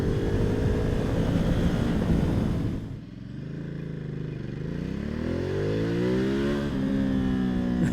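A 2020 Ducati Multistrada 1260S in sport mode on city streets dips briefly, then accelerates hard, its engine note climbing steadily in pitch with loud, close, sustained revving.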